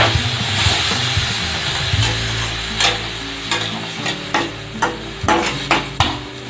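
Water splashed into pasta in a hot pan hisses and sizzles steadily, with sharp spoon or spatula scrapes and clinks punctuating the frying toward the end, no voices present.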